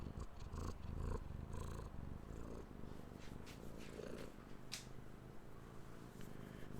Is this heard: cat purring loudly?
yes